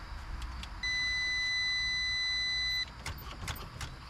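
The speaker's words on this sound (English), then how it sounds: "fuel pump running" Faint, steady electric whine from the fuel pump of a long-stored 1954 Dodge Coronet runs for about two seconds in a quiet garage, with small clicks and knocks before and after.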